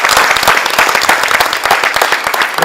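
Theatre audience bursting into loud, dense applause after a stage performance, steady crowd clapping filling the whole stretch without let-up.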